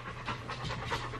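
Dogs pant after a walk with quick, rhythmic, close-up puffs of breath, repeating evenly and fairly softly with no talking.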